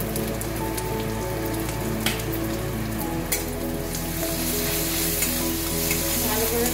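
Ginger-garlic paste sizzles and fries steadily in a pan, a close, continuous crackle with occasional stirring scrapes, no talking.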